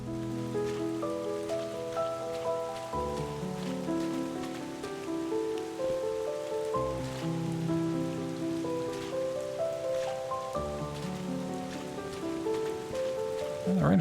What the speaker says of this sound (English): Well, the rain effect is kind of nice,